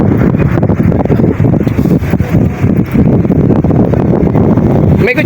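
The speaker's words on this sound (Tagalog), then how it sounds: "Lakas ng hangin." Strong wind buffets the microphone outdoors near a boat in Sariaya, Quezon, a loud continuous roar with gusts, no one talking.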